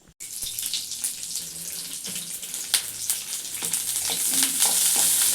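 Onion and garlic frying in oil for a coconut sambar: a close, steady sizzle and hiss that builds gradually after a brief stir or clatter at the start, with occasional spattering pops and no talking.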